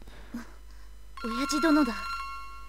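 A cell phone ringtone in the visual novel game Noble☆Works gives a brief steady electronic ring that overlaps a voice.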